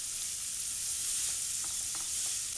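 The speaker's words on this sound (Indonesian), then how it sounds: "Ini kita tumis." Meat stir-frying in a pan, a dense steady hiss of sizzling oil and moisture, close and even throughout, with a few faint scrapes of stirring and no voices.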